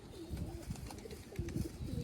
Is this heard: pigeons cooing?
yes